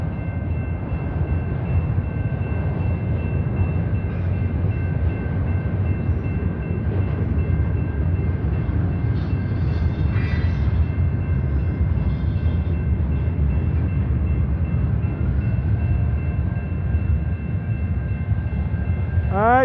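NS freight train hauled by CN locomotives rolls through the Ford Avenue railroad crossing in Wyandotte, Michigan: a loud, steady rumble of wheels and cars passing close by, with crossing bells ringing throughout.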